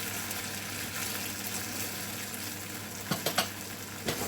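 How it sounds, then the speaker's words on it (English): Fish devil sauce with pieces of fish simmers in a pan with a steady, even sizzle, close and continuous, broken near the end by a few light clinks of stirring. "Now going to add sauce and gently mix it up again. That needs to simmer for 2 to 3 minutes."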